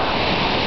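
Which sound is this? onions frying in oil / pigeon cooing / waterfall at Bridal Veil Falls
waterfall at Bridal Veil Falls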